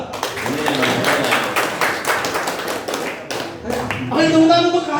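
A competition audience gives a short burst of clapping, many hands tapping fast and irregularly at close range, before a voice speaks over the fading applause.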